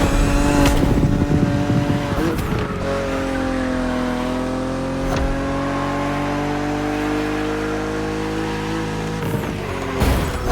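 A BMW Z roadster races in The Crew Motorfest video game, its engine droning loud and steady with rising and falling pitch through gear shifts, plus a few sharp clicks and brief tire noise, with no talk.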